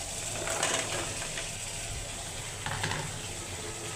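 Jackfruit seeds with dried fish and potatoes sautéing in a pan, a low continuous sizzle close by with a couple of brief scraping stirs from a utensil.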